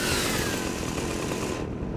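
A chainsaw in the video game Fortnite runs with a loud, steady, raspy engine whine that holds nearly constant for two seconds before cutting off abruptly.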